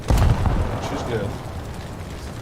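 A battleship's main gun salvo in War Thunder, a heavy booming blast at the start that rolls into a long, low rumbling decay.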